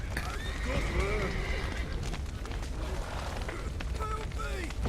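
Horses whinny and neigh several times over galloping hoofbeats and clatter in The Witcher 3: Wild Hunt, with game-style effects and some voices mixed in.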